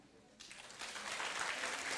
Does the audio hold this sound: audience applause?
yes